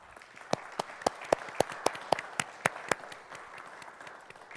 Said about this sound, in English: Please join me in giving all of these partners a round of applause.